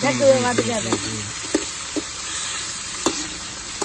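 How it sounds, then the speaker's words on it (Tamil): Tomato and green chillies sauté together in a pan for a curry, giving a steady close sizzle with a few sharp clinks and taps from stirring spread through it. "தக்காளி பச்சை மிளகா எல்லாம் ஒன்னா போட்டு ஒன்னா போட்டோம் இப்போ கொஞ்சம் வதக்கட்டும்"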